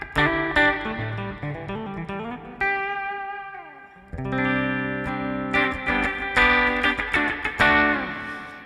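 Electric guitar through a clean DLX amp channel with spring reverb, chords and single notes ringing out, including a pitch slide, with bright sustained tones and a brief near-silent pause midway.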